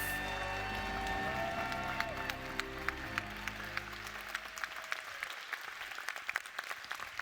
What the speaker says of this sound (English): Let's give them a huge round of applause, Texas